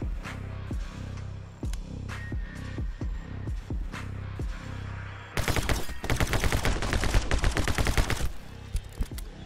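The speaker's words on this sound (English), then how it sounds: "Shotgun. Oh my god, this thing just rips. Just rips through everything." A shotgun fires in My Friend Pedro, first in spaced single blasts and then in a rapid, louder burst of repeated shots that rip together near the end.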